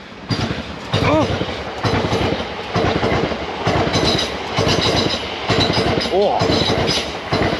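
A train passes close by with rhythmic clickety-clack of wheels over rail joints and occasional squeals, loud and steady throughout, while a person exclaims over it.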